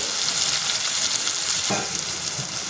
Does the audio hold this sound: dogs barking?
no